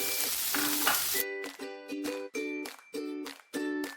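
Chopped onions for a green peas curry fry in a pan, a loud steady sizzle at first, then broken into repeated bursts of sizzling and stirring with short quieter gaps, close up and without talk.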